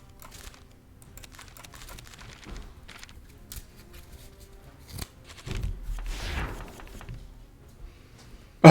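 Card deck shuffling in the video game Breach Wanderers: a faint run of quick, papery clicks and riffles, swelling into a brief, fuller shuffle flourish near the end.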